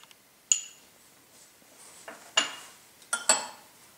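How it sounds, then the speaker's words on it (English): A utensil clinks and scrapes against a bowl while crushed graham crackers are stirred with melted butter, a few sharp, close taps spaced irregularly in an otherwise quiet kitchen. "You want to mix everything around so you've got a well-coated, crumbly mixture."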